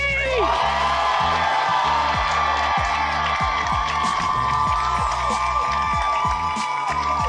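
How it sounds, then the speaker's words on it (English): A rally crowd in Montgomery, Alabama cheers and whoops with a dense, sustained roar, applause woven through it, while a voice booms over a PA and low rhythmic music pulses underneath. "Give a rousing round of applause to Representative Neil Rafferty!"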